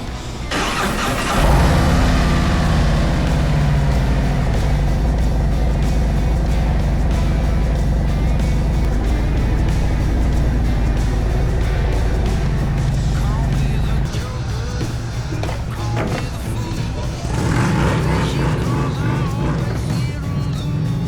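Motorcycles cruise a 251-mile road ride toward the Tail of the Dragon, a loud, continuous engine drone mixed with wind rush that shifts in tone partway through.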